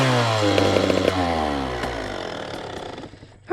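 A dirt bike engine winds down from a buzzing rev to a low, uneven idle, loud and close, with a sharp burst right at the end.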